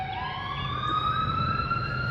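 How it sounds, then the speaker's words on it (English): A police car siren wails outside on a city street, its rising and falling tones loud and steady over low traffic rumble, with no voices. "There's a loud ass fucking police car."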